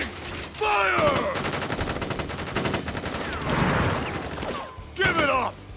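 Troops firing guns on command in the Final Fantasy VII Crisis Core game, a rapid, loud burst of automatic fire with ricochet whines, a brief lull, then another sharp burst near the end.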